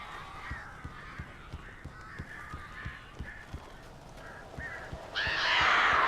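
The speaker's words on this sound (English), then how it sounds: "These birds are weird." Crows caw repeatedly in the video game Alan Wake, a string of harsh calls in steady rhythm under a low, dark ambience, ending in a louder rush of noise.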